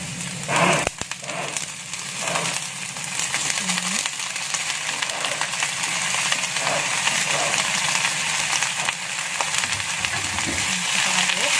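Fern leaves and tomato stir-fry in a pan for a spicy dish with anchovies, a steady loud sizzle under repeated scraping and stirring of a spatula, with some talk in the background.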